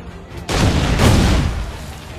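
Explosions in Assassin's Creed 3 as the character runs through them: a heavy booming blast that swells in and rumbles for about two seconds, loud and dense with low-end roar.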